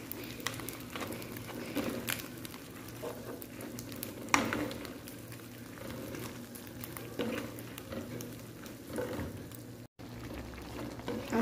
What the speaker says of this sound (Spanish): Se lo voy a poner, la voy a mezclar con la salsa.